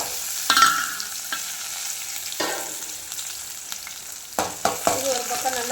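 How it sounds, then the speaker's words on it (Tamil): Small onions (shallots) frying in a pan, a soft continuous sizzle with several louder bursts of crackling as they are stirred, close by. "இது ஒரு பக்கம் நல்லா பொன் வறுவலாக வரட்டும்"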